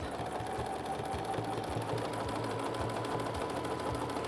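Sewing machine quilting a football shape with a ruler, running steadily with a fast, even mechanical stitching rhythm that is close and constant, with no talk.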